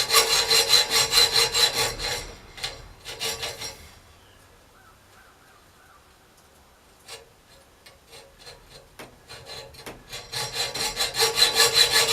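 Handsaw cutting wooden pieces for heart-shaped hasps, rapid rhythmic rasping strokes, loud and close, pausing midway for a few seconds before sawing resumes and builds again.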